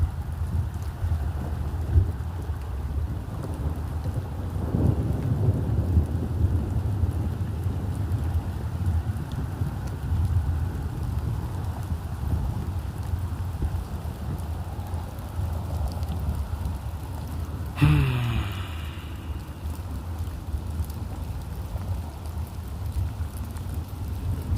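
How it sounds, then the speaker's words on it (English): Steady rain falls through a thunderstorm, a continuous low wash with a sudden crack of thunder about two-thirds through, no voices. "Sit in the storm with me for a bit."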